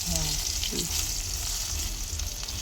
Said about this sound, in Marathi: ह्यात काय कांदा परतून घ्यायचा का